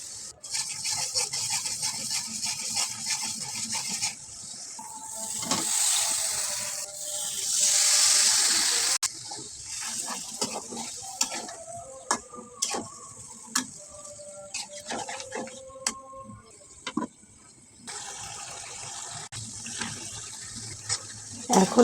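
Chopped onion, ginger-garlic paste, turmeric, chili, coriander and salt fry and are stirred in a pan, giving a steady hiss with intermittent scraping and clinks from the spoon, briefly louder midway.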